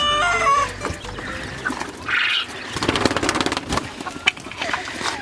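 Quails in a coop calling with short clucking and chirping notes amid scattered rustling and bird activity, moderately close, with a brief human voice at the start.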